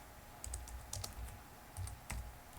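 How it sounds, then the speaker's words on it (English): Quiet typing on a computer keyboard while entering a Linux mount command: a few short bursts of soft key clicks, close but faint, over low background hiss with no speech. "So what I'm going to type in is I'm going to type in mount,"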